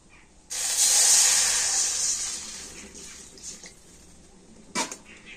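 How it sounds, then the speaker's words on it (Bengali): Water poured into a hot kadai on a lit stove sizzles and hisses loudly for a couple of seconds, then settles into a softer steamy simmer, with a brief clatter near the end. "আর এবার আমি উনুনটা জেলে উনানে একটা কড়া বসিয়ে দিয়েছি, আর কড়াতে আমি দিয়ে দেব জল।"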